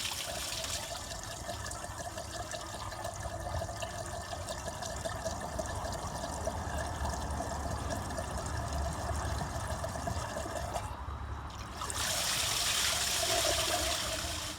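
Clean water runs and splashes steadily as it is flushed through a Ford Model T radiator, a continuous close trickle that grows louder and brighter toward the end.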